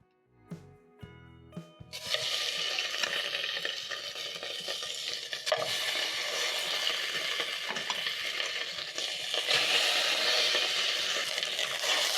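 Beef ossobuco sears in a hot pan. A few faint knocks and clinks come first, then a loud, steady, close sizzle holds without pause for about ten seconds.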